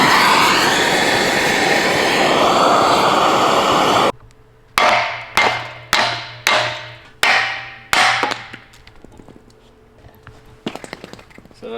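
Loud steady roaring noise cuts off, then five or six sharp metallic hammer strikes ring out in an even rhythm, hammering out old suspension mounts, trailing into lighter tapping.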